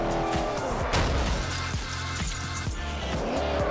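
A Mustang skids into a wall in Forza Horizon, with engine roar, squealing tires and a scraping impact, loud and close throughout.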